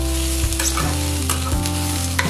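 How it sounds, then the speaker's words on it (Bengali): Rice, dal, tomato and ginger stir-fried together in a pan, a steady loud sizzle with a spatula scraping and stirring at intervals, no voices. "এবার আরো প্রায় 1 মিনিট টমেটো আর আদাটাকে চাল আর ডালের সঙ্গে নাড়াচাড়া করে নেব"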